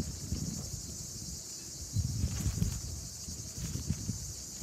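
Steady, high-pitched buzzing of many cicadas fills the background, continuous and dense, with low rumbling wind noise gusting underneath.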